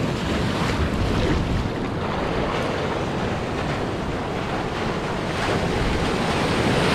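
Sea waves wash continuously onto Colva Beach in Goa, a steady broadband roar of surf with wind buffeting the microphone throughout, loud and unbroken for the whole stretch.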